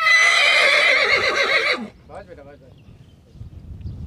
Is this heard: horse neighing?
yes